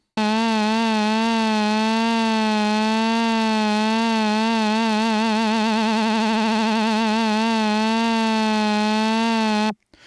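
A synthesizer holds one steady buzzy tone while an LFO vibrato wobbles its pitch up and down, the wobble speeding up midway before the note stops abruptly.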